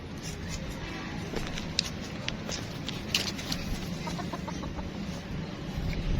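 Pet chickens fed alongside rabbits cluck softly amid a constant rustling, scratching backdrop, with scattered faint clucks and chirps throughout.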